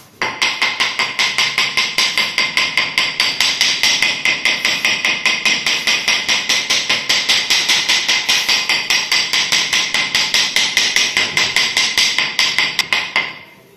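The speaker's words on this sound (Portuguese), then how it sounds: "Barulho de oco nesse piso?" Rapid, steady tapping on porcelain floor tiles laid with a tile leveling system, checking for hollow spots; dozens of crisp, evenly spaced knocks, close and loud, with no talk.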